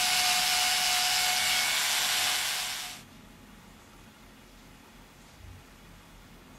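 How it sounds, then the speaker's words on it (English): A loud, steady, high hissing grind of a drill boring a hole into a Strat-style guitar body runs for about three seconds, then cuts off abruptly into quiet room tone. "And you just basically drill a hole."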